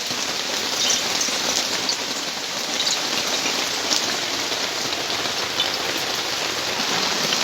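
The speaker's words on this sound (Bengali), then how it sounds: "আজ সকাল থেকে ভীষণ বৃষ্টি পড়ছে" Heavy monsoon rain pours down steadily, a dense, even roar of drops drumming on surfaces close by, loud and unbroken from start to finish with no voices.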